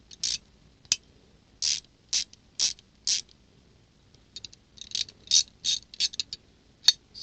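A Craftsman ratchet wrench clicks in short rapid bursts, roughly a dozen separate ratcheting runs with brief pauses between, close and fairly loud with no talking.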